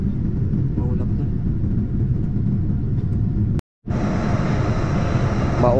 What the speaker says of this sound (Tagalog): Nasa above clouds na yung eroplano.